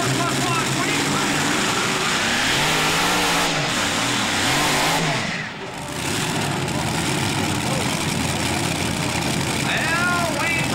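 A modified tractor at a 2000 NTPA tractor pull in Brigden, Ontario roars and revs hard off the line, loud and continuous throughout, with a commentator's voice partly over the engine.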